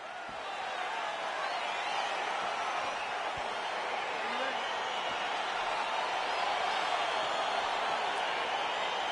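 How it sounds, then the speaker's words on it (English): Arena crowd at a UFC event roaring steadily as a fight gets underway, a dense sustained wash of cheering with no breaks, mixed with a commentator talking over it. "crowd getting excited as this fight gets underway"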